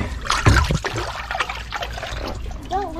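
Running water trickles and splashes over freshly cleaned mutton snapper fillets in short uneven bursts. Voices talk over the rinsing throughout.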